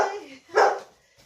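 A dog barks once at close range, a short loud burst after a voice trails off, with faint sounds afterward in a home setting.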